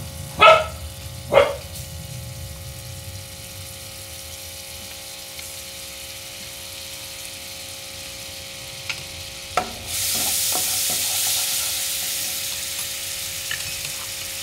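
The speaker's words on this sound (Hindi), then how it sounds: "तितू घाता थोडें गार्लीक गोल्डन ब्राउन जावपाचो तें फ्राय करता." Garlic fries in butter in a pan, and a steady moderate sizzle begins partway through. It follows a few brief knocks and clatters over a quiet background hum.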